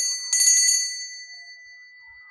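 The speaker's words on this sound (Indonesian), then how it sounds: "ditandai dengan lonceng berbunyi" A single bright bell strikes once, ringing clearly and close before a long sustained tone slowly fades out alone.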